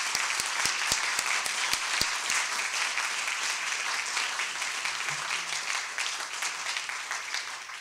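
A school audience welcomes a guest speaker with applause. A few sharp, evenly spaced individual claps lead into a dense, steady round of clapping that stays strong and gradually fades slightly near the end.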